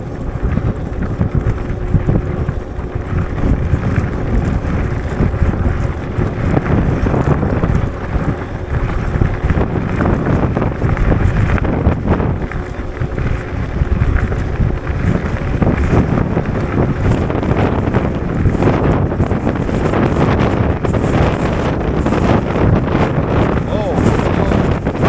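Strong, gusty wind roars and buffets the microphone continuously while riding a Wooken e-bike in bad weather, loud and steady with surging bursts throughout.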